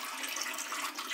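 Tap water running steadily into a sink during tooth brushing, a close, continuous hissing splash with no voices.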